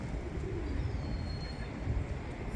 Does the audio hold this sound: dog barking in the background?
no